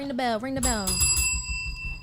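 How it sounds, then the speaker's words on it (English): A bell rung during a podcast recording, its bright metallic ring sustaining and slowly decaying over a couple of seconds while a voice talks just before and over it. "Ring the bell."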